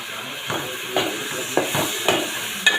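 Okra and other ingredients sautéing in a pan for sambar, a steady close hiss with about five soft rhythmic stirring scrapes and a small metallic clink at the end.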